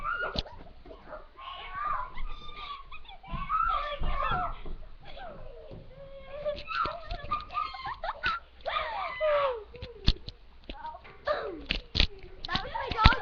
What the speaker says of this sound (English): that was my dog again, Twinkle.